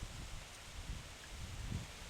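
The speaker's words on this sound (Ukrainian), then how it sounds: "Бачите, вітер піднімається, то трошки він притихне то знову підніметься, такий поривистий вітер." Low, blustery wind noise rising and easing in gusts, with a rustling quality like leaves stirring nearby.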